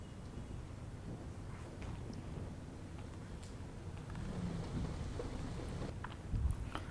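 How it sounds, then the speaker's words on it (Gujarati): Heavy monsoon downpour over flooded streets in Thane, Mumbai, a dense, steady broadband wash of rain that holds at an even level throughout, with no voices. "જ્યાં ધોધમાર વરસાદ મુશ્કેલી લઈને આવ્યો છે"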